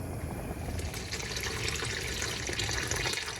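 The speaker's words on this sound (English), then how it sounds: "So I will go ahead and drain some of the water out." Water pours steadily out of a pot of cooked wild rice as it is drained, a continuous close splashing trickle that runs unbroken for a few seconds.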